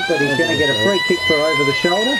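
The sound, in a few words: siren ending the match quarter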